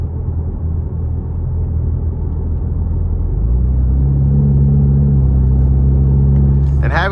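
A 2026 Ford Mustang 2.3 EcoBoost with active performance exhaust pulls under acceleration, a loud, steady low rumble that deepens and firms up partway through, heard from inside the car.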